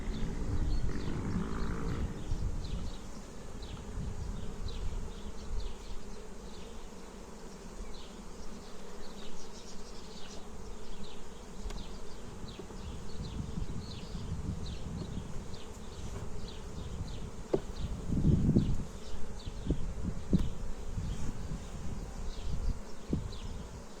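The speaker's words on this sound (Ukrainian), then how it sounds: "Дуже багато молодої біленької бджоли." Dense, steady buzzing of many honeybees close by in an open six-frame hive, a continuous droning swarm with occasional louder individual bees passing near.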